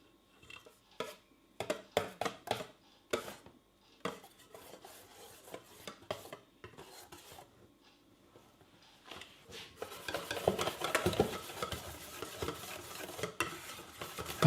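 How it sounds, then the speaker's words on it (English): Whisk scraping and swishing through a prosecco sabayon cooling in a bowl, with sparse separate strokes early on, then a steady close rasping whisking run that grows louder toward the end. "I whisk it a couple of times as it's cooling down and the foam looks good."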